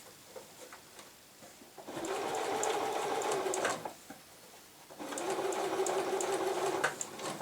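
Domestic sewing machine running a short back stitch to secure an invisible zip, two steady whirring bursts of about two and three seconds each separated by a brief pause, close and clear with light clicks between.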